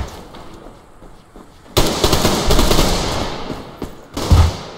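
Gunfire in the online shooter Survarium: a burst of automatic weapon fire erupts loudly midway after quieter ambience, continuing in dense rattling volleys with another heavy shot near the end.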